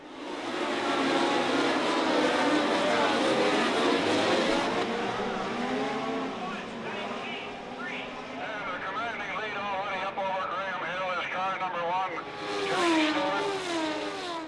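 Formula One race cars from 1970 pull away at a race start, engines roaring and rising in pitch as they accelerate and sweep past, loud and dense throughout with a voice talking over them.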